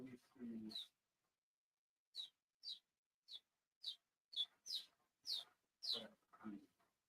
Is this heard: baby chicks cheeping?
yes